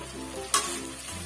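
Spices and ground turmeric lightly frying in oil for a Bengali tilapia mustard-poppy curry, a steady close sizzle with one brief sharp hiss burst midway, no voices.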